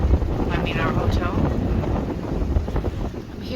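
Strong wind at Waikiki beach buffets the microphone in a steady, loud, broadband roar that lasts the whole clip, with a voice faintly heard beneath it.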